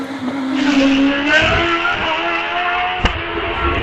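A race car at a British Championship hillclimb at Doune roars past loudly and close, its engine pitch rising and shifting as it passes, with a sharp crack near the end.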